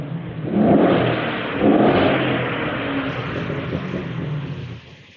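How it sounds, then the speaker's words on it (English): A 2012 Holden Commodore VE II SS Sportwagon V8 with an aftermarket exhaust revs in two strong surges and settles into a deep, loud idle-like rumble before cutting off. "so you can hear the V8 grunt"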